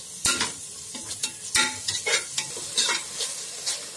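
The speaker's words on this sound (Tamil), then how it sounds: "முருங்கைக்கீரையை நல்லா வதக்கி எடுத்துக்கலாம்." Drumstick leaves sauté in hot oil in a pan, a soft continuous sizzle with frequent sharp scrapes and clinks of a ladle stirring them, close up and without voices.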